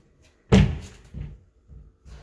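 A wooden cupboard door under the stairs closes with one solid thunk close to the microphone. A few softer knocks and rattles trail after it in an otherwise quiet room.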